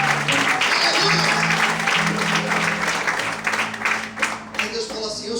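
Sustained applause from a church congregation, thick overlapping clapping mixed with shouted voices and sung tones, fading slightly toward the end.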